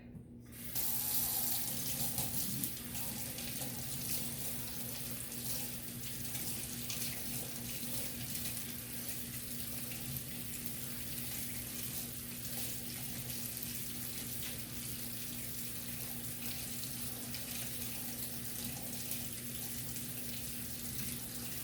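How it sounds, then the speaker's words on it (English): Tap water running steadily into a sink while orchid roots are rinsed of moss, a constant near hiss that goes on for over twenty seconds after a brief splashy start. "I think if I rinse this, I think the rest of the moss will come out. So let me rinse this out."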